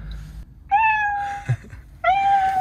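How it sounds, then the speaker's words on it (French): A cat meows twice, played by the voice assistant of a 2023 Mercedes C 300e, each a drawn-out, tonal cry, with a brief soft knock between them. "Fais le chat."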